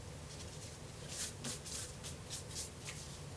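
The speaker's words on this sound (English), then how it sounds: "raking across the edges of the card. Not really tearing a whole bunch, just like the card is a little bit distressed. Using the back of my scissors." Back of a pair of scissors raked repeatedly across the edges of a paper craft card to distress it, a series of soft, close scratchy rasps in an uneven rhythm, alone in a quiet room.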